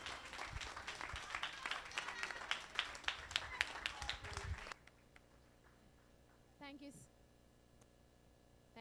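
An audience at a youth climate change conference applauds in a burst of rhythmic clapping that stops abruptly, followed by quiet room tone and a brief faint sound.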